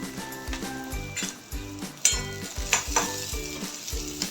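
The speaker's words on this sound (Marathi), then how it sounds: "आता त्याच्यामध्ये बारीक चिरलेला अर्धा कांदा घेतला आहे तो ॲड करते कांदा थोडासा लालसर झाला ना" Finely chopped onion sizzles and fries in a pan, with steady crackling broken by repeated scraping stirs and faint clinks of a spoon against the pan, close by with no talk.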